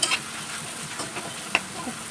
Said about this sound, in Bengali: আলুটা এখন ভাজা হচ্ছে